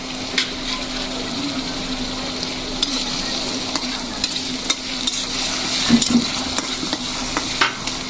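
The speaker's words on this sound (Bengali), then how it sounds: "পেঁয়াজ কুচিও দিলাম, পেঁয়াজ বাটাও দিলাম।" Chopped and ground onion sizzles in hot oil in a pan for pabda fish curry, with a steady frying hiss and frequent scraping clicks of a spoon stirring close by.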